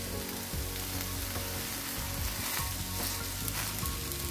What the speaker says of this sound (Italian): Sto girando il radicchio